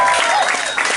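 Audience applause fills a comedy club in Baltimore during a stand-up set, a dense, steady wash of clapping from a live crowd that carries on for the full second without letup.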